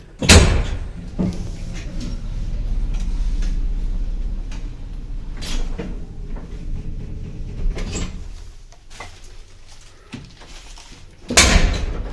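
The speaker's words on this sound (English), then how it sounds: "the service lift, which is an epic old lift without inner doors" An old service lift without inner doors operates, with door clunks and bangs, sliding and rattling movement, and a mechanical hum between several sharp knocks. It sounds fairly close and there is no speech.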